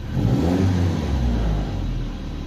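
A 1999 Mitsubishi Colt 2.0 long-wheelbase single-cab bakkie engine revs up close, a loud, steady low rumble that rises and holds, then eases slightly near the end, with no voices.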